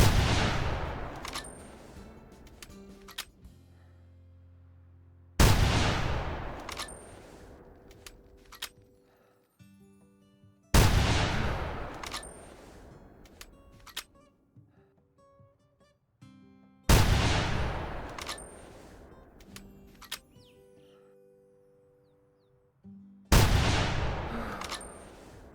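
Repeated gunshots from a hunting video game during an alpine ibex hunt, five loud sharp blasts spaced roughly five seconds apart, each trailing off in a long rolling echo across open mountain terrain.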